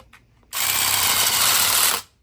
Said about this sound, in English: Now we're going to continue to drill down until the tape touches the lid.